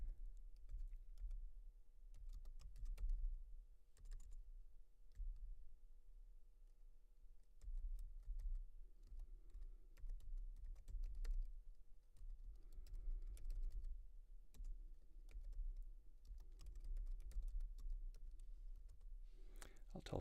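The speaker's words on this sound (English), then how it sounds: "I'll just type this stuff in here" Typing on a computer keyboard, rapid irregular clicks in bursts with short pauses, close and fairly quiet, with a voice talking intermittently underneath.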